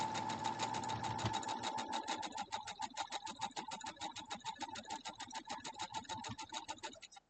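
A sewing machine stitches straight down through a quilt block, its rapid, steady needle chatter running close and continuous before easing off near the end.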